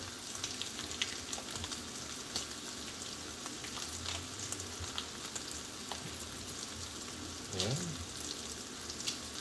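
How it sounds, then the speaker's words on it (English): Butter melting in a skillet gives a steady, soft frying crackle with scattered small pops throughout, fairly close and even in level, with no talking over it. "you take a safe pan and then you're gonna add 4 tablespoons of butter in that"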